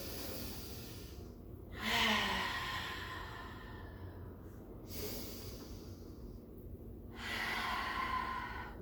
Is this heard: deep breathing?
yes